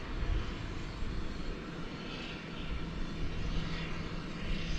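A jet airliner rolls and climbs out from DFW Airport at night, bound on a long trans-Pacific flight. Its steady, broad engine roar stays loud and continuous from start to finish, with no talking over it.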